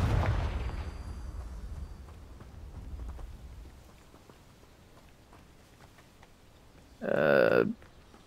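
A Confringo blasting spell goes off in Hogwarts Legacy: a heavy boom at the start decays into a low rumble and faint crackle, followed later by a short, bright, tonal chime-like game sound.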